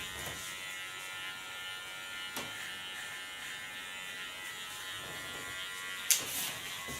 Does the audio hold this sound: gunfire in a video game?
no